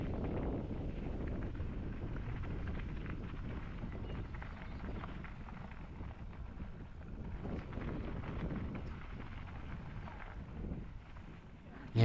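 Wind gusts buffet the microphone during an uphill bike ride, a continuous low rumble for several seconds, with no clear voices.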